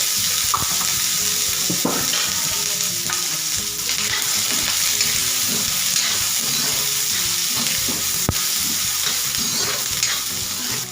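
Onions frying in oil for a Malvani-style egg curry, a steady close sizzle with scraping stirring sounds throughout, no talking.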